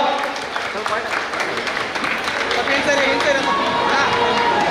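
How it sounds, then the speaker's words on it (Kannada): An audience bursts into loud, sustained applause at an honouring ceremony, with dense clapping and crowd noise filling the whole stretch and building slightly toward the end. "ದಯವಿಟ್ಟು ಜೋರಾದ ಚಪ್ಪಾಳೆ ಕೊಡಬೇಕು"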